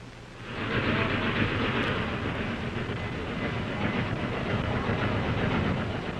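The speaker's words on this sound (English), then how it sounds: "What you're seeing now is a familiar sight, a train coming into the station. And the sound, too, is familiar." A train pulling into a station, a steady close rumble with rolling clickety-clack that swells in at the start and holds loud and continuous, heard in an old vintage film recording.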